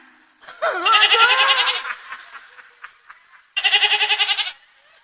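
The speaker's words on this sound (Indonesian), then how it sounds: "Tuh kambing ikut nyanyi mulu." A goat bleats loudly and close by at a Betawi-style gathering, first a long wavering call, then after a pause a second shorter, pulsing bleat.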